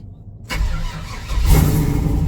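A GMC truck engine cranks and catches after half a second of silence, then settles into a loud, close idle that swells with a rev about a second later.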